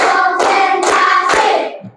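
A group of children clap in unison in a classroom counting clap game: four sharp, evenly spaced group claps with a brief ringing tail after each, fading at the end.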